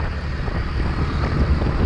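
Strong, gusty wind buffets the microphone while riding a Kawasaki W230 motorcycle along a dirt road, a steady loud low roar with stronger gusts swelling throughout and no talk.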